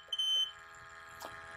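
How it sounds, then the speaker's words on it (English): Eagle 1 gas detector sounding its alarm right after the reset button is pressed: a short high electronic beep burst, then a steady tonal whine with a brief click, close and moderately loud. "Since I'm back in normal operation mode, the alarms are re-energized."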